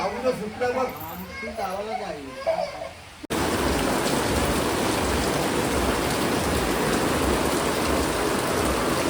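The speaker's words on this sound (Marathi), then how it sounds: "जोरदार पाऊस झालाय" Heavy rain pours down steadily in a loud, dense, even wash after a short stretch of voices talking at the start.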